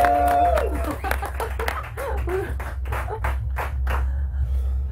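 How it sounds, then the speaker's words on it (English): Scattered clapping from a live audience at Paris Games Week, a string of sharp, uneven hand claps over a low steady hum, thinning out toward the end. "Round of applause for Kijooki"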